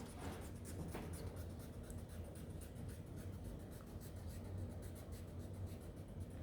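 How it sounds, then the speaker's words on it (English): A pencil line being rubbed out on paper with an eraser, a steady close scratchy rubbing that continues without pause; no voices. "I'm going to erase it."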